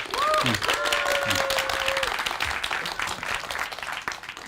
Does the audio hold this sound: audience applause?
yes